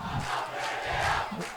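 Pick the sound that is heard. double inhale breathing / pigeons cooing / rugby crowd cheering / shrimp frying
rugby crowd cheering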